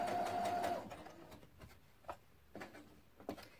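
A sewing machine stitches a visible top seam on fabric for an off-the-shoulder top, running steadily for under a second before it stops, followed by a few faint clicks and taps of handling.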